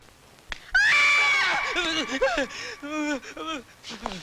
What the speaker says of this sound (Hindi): वो हमारी घंटी की आवाज है